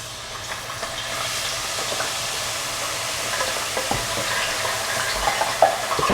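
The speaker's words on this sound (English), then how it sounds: "We need to blanch them in the oil first. Tossing them in." French fries blanch in hot oil as part of a chicken sandwich meal, a loud, continuous bubbling sizzle with occasional clinks and a sharper knock near the end, no voices.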